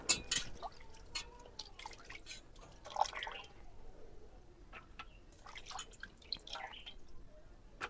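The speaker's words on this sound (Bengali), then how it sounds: "এখন মাছগুলোও আবার ধুবো।" Fish are washed by hand in water, giving scattered splashes, drips and sloshes in irregular bursts, close and fairly quiet, with no one talking.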